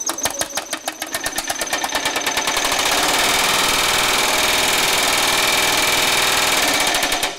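A Baileigh MH-19 power hammer pounds sheet metal in a rapid, steady mechanical hammering that starts with distinct blows and quickly builds into a loud, continuous rattling drive, close and alone.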